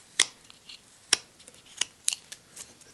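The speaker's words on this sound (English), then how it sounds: "Not a lot of pressure, just letting the sharp knife do the work." A sharp knife carves shallow detail cuts into basswood on a gnome figure, giving about five crisp, short snicks at uneven intervals, close and fairly quiet, with no talking.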